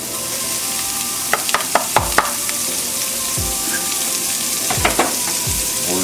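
Garlic, onion and thyme fry loudly in a pan for carbonara pasta, giving a continuous bright sizzle broken by several quick utensil clinks and scrapes.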